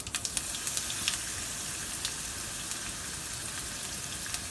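Crushed garlic and curry leaves with asafoetida sizzling in hot oil for a tomato saar, a steady soft frying hiss with scattered small crackles and pops, no voices.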